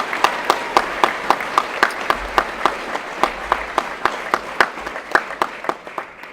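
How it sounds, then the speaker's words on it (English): An audience applauds at a school prize giving, steady dense clapping with sharp individual claps standing out, holding for several seconds with no talk over it. "So a big round of applause for Claire,"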